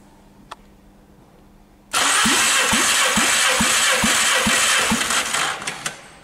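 A loud, close engine cranking during a compression test on a 2004 VW 1.4-litre 16-valve BCA petrol engine, with a rhythmic chugging pulse for several seconds, starting abruptly and stopping with a few sputters, no voices.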